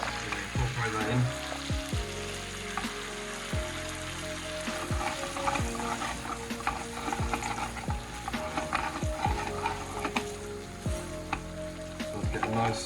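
Nduja sausage is stirred into a pan of tomato sauce: a spoon scrapes and clatters in repeated strokes over a steady, fairly quiet sizzle, close up and with no speech.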